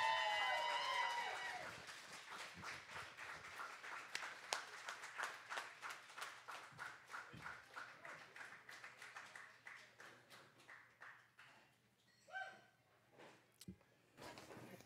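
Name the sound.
audience applause for the first poet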